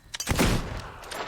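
A single gunshot in the video game Fable 2, a sharp crack followed by a booming, fading tail, loud and close.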